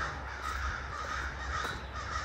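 Crows caw steadily and harshly at middle distance as they mob a bobcat outdoors, their repeated calls overlapping in a continuous noisy chorus with no voices.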